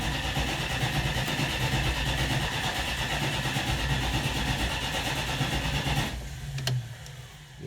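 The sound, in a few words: engine cranking and starting with dry carburetor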